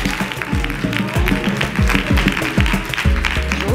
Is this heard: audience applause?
yes